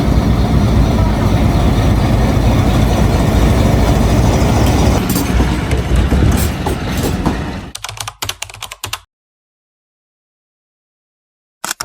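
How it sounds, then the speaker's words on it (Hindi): A train crosses the Attock Khurd railway bridge with a loud, steady broadband rumble for about eight seconds, then breaks into choppy bursts before falling silent. "इस पुल के ऊपर से जो है ना ट्रेन गुजरती है"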